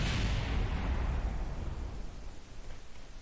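An ICBM striking the space center in the video game Kerbal Space Program, a muffled explosion whose broad rumbling roar starts at full strength and slowly fades away over a few seconds, with no talk.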